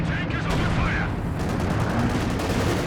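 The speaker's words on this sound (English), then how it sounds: "He's dropping in some artillery over here." Artillery fire in a Company of Heroes 2 4v4 match, with heavy explosions and gunfire blended into a dense, loud battle din, while a voice talks briefly over it.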